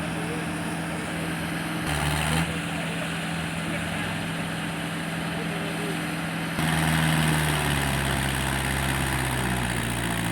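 A tractor's steady, low diesel engine idles throughout at a tractor market in Talwandi Sabo, with a brief rise around two seconds and a louder, rougher surge in the last few seconds.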